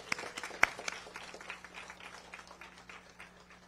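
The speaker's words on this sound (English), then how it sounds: "Can we give yourselves a big round of applause?" A community climate action gathering in Riverside breaks into scattered, fairly light applause from the crowd, with a few sharper claps early on and a low hum underneath.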